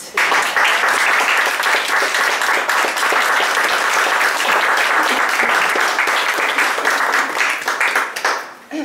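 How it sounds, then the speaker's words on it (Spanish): A crowd at an art exhibition applauds steadily and loudly for several seconds, the clapping thinning out near the end. "Así que para los dos un aplauso."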